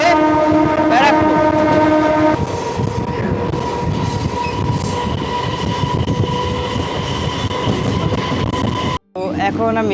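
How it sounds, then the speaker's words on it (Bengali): A passenger train pulls out of Shyamnagar station toward Halisahar. A horn-like tone sounds at the start, followed by a loud, steady rumble and rattle of wheels and carriages, a brief dropout near the end, and faint voices. "শ্যামনগর থেকে এখন ট্রেন আমাদের ছেড়ে দিল। এখন আমাদের ট্রেন আবার পুনরায় যাত্রা শুরু করে দিল হালিশহরের উদ্দেশ্যে।"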